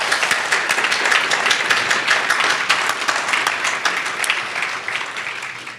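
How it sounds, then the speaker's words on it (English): A banquet crowd at the NCBA Legal Legends of Color awards ceremony applauds its sponsors with dense, sustained clapping that stays loud and steady throughout and fades slightly near the end. "Let's give a round of applause to our sponsors"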